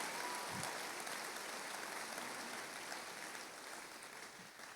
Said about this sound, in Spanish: Y dé un fuerte aplauso a Dios.